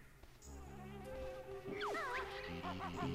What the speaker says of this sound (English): What's with these bees now?